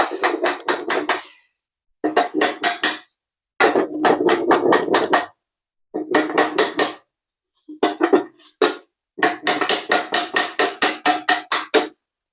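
A hammer strikes metal near a car engine's bell housing in rapid bursts of sharp, loud blows, several clusters of hits separated by short pauses, close and unaccompanied by talk.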